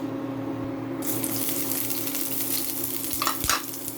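Onions go into hot cooking oil in a pan and sizzle steadily, the frying hiss jumping up suddenly after a moment and continuing loud and close, with a brief clatter near the end and no talking.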